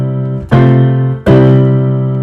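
A pedal 6/4 chord example with a held bass C under the upper voices: two sustained chords struck one after the other over the steady droning bass, close and clear with no talking.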